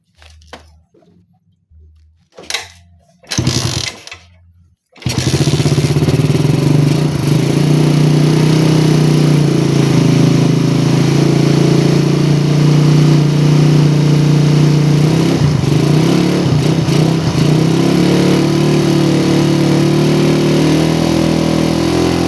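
After a few short sputters, a carbureted motorcycle engine catches and runs loud and steady while warming up, a buzzing idle with slight revs that holds for a long stretch.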